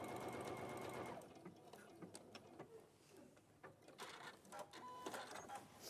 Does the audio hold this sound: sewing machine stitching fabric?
yes